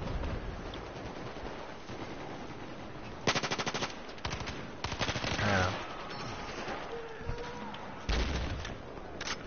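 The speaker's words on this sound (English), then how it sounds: "Everywhere I go, I shoot, and I can't kill anything." Automatic gunfire crackles in Battlefield 4, with several loud rapid bursts of machine-gun fire and scattered single shots over a busy battlefield background.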